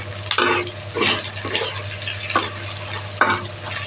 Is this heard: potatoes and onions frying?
yes